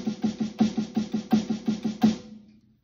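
A quick run of even 16th-note drum strokes, about a dozen fast hits at a steady pace, ends on a brief ringing decay.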